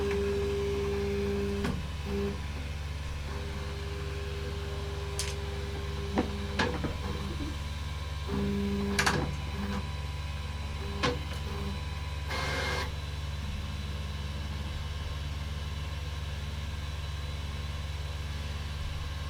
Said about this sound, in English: And I am printing with PLA Plus at the moment